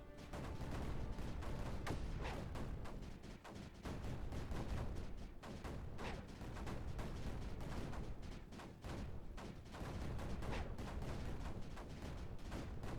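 Cannons and mortars fire nonstop in the strategy game Creeper World 4, a dense, loud wall of overlapping booms and crackling blasts with no pauses and no speech.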